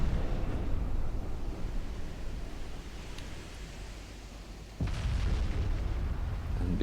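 Naval gunfire and shell explosions in Ultimate Admiral Dreadnoughts during a British 1900 campaign battle: a continuous distant rumble of booms that eases, then surges back with a sudden louder salvo near the end.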